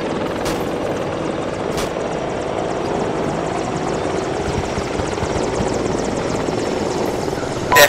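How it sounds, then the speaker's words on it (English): An enemy helicopter in ARMA 2 drones with a steady rotor whir and engine hum, loud and continuous for several seconds, with a couple of brief sharp clicks. "Definitely, yeah, that's an enemy chopper"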